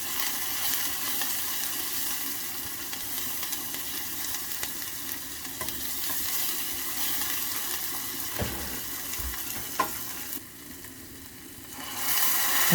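Ground spices such as pepper, ginger, coriander and cumin sizzle loudly in a hot pan while being stirred, a steady hissing fry throughout with occasional scraping, ending in a brief quieter stretch before the sizzle surges back.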